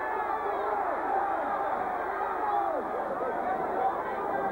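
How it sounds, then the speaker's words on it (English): A rugby league crowd at a Leigh versus St Helens match roars and cries out in a dense, continuous wash of distant voices that holds steady throughout. "Cries from the Leigh crowd."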